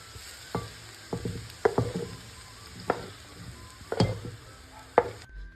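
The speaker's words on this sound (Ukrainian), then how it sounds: "Все гарно перемішуємо." Fried mushrooms being stirred into a cabbage dumpling filling, with repeated spoon scrapes and knocks against the pan over a steady background hiss.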